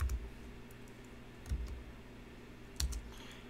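Computer keyboard keys are typed while a command is entered in CAD software, giving a few quiet, scattered clicks with brief louder taps at the start, middle and near the end against a faint steady room hum.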